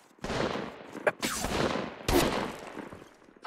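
Bursts of gunfire in the video game Apex Legends come in three loud volleys of rapid shots, each with sharp cracks and a trailing rumble.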